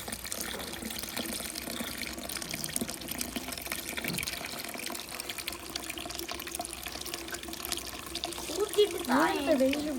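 Dissolved tamarind water is poured into a large pot for a fish curry, giving a soft liquid splashing and trickling that swells near the end. It sits under ongoing conversation in a home kitchen.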